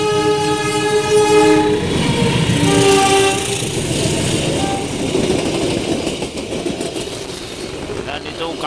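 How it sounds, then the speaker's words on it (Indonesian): Passenger trains KA Kahuripan and KA Serayu crossing at a station, with a long horn blast at the start over the rumbling, clattering roll of passing cars that fades slightly toward the end. "Ini dia kereta yang bersilang dengan"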